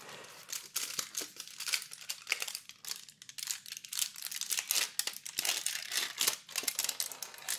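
Aluminium foil being peeled off a bar of dark chocolate, close and crisp, with repeated crinkling and tearing bursts in an irregular rhythm and no talking.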